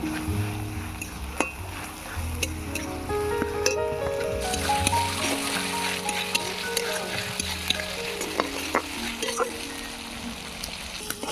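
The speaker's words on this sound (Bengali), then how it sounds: "আদা রসুন পেঁয়াজ সব লাল লাল করে ভেজে নেব।" Ginger, garlic and onion paste fries in a pan in a village kitchen, a steady moderate sizzle with scattered clicks and scrapes of stirring.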